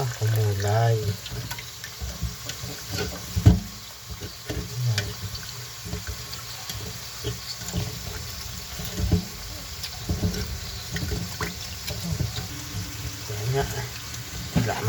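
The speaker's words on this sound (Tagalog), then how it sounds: "Bigyan natin konting tubig." Water is poured onto raw pork blood for dinuguan, a Filipino blood pork stew, as a running, splashing trickle close by, with a cook talking over it.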